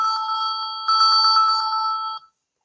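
A telephone rings with a rapid electronic trill in two bursts, close and clear, then stops abruptly with no voices.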